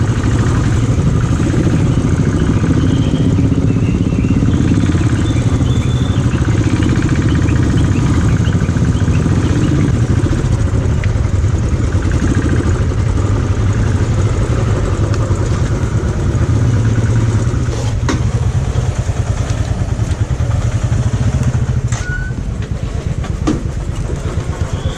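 Several Royal Enfield motorcycles ride together in a group on an Independence Day ride, a steady, loud, continuous engine rumble and road noise throughout with no talking.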